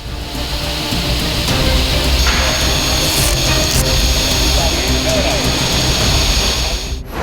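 A saw cuts through metal-faced plywood for a kitchen sink cabinet, making a loud, sustained, steady roaring whine close by that cuts off sharply at the end.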